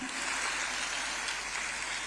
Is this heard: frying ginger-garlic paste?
no